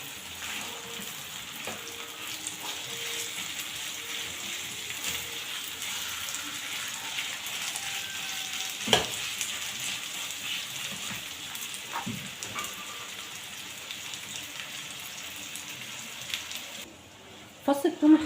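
Garlic cloves and meat fry in a pan with a continuous, fairly soft sizzle like light rain. A few louder clicks and clatters from stirring break through, with small knocks at the end.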